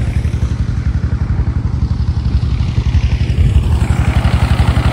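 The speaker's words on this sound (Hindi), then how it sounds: "मोटरसाइकिल" A motorcycle engine runs loud and close, its low rhythmic chugging pulse steady and unbroken throughout with no other sounds on top.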